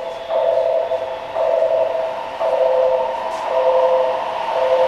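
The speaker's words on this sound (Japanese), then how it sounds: "次に急行電車の通過です。" A Tokyu 8500 series express train runs through a station without stopping, giving a steady, loud mechanical drone with a pulsing tone that swells and eases as the cars go by. No voices.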